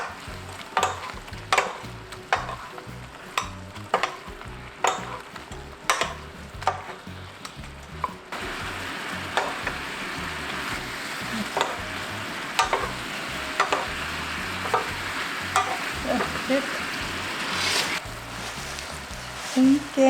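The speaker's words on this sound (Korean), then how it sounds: "마늘하고 다 섞어줄게요" Braised tofu with garlic, chili peppers and green onion bubbles in a pan while a utensil stirs it, giving regular scraping knocks over a simmering sizzle that grows denser and more continuous partway through.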